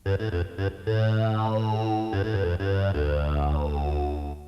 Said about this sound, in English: the simple sawtooth wave has been sent through vocal formant filters to sound like